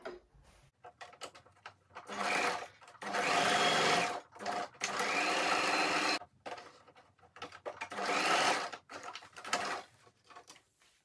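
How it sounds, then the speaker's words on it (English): Sewing machine stitching satin fabric for a pleated, satin-lined rose turban, running in several loud bursts of steady whirring separated by short pauses and clicks, close by with no talking. "So I'm going to sew it down."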